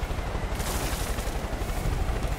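Gunfire aimed at the players in the video game Far Cry 5 crackles through a dense, loud roar of helicopter and combat noise, forming a continuous barrage with no clear pauses.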